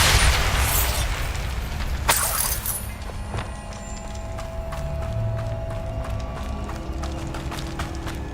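A Bombarda spell explosion in Hogwarts Legacy lands as a loud, broad blast at the start and rolls off into a decaying rumble, then a second sharp burst, followed by rapid ticking game effects over a steady background din.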